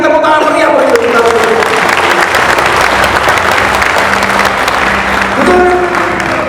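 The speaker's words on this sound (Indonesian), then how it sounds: "Yang setuju berikan tepuk tangan meriah bagi kita" Loud, dense applause from an audience at a company family gathering for PT Indocipta Wisesa, sustained for several seconds with some voices and tonal sounds mixed in beneath the clapping.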